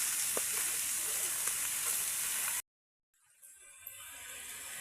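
Catla fish pieces fry in oil in a pan, a quiet hissing sizzle that cuts out abruptly to silence partway through, then returns faintly and builds again.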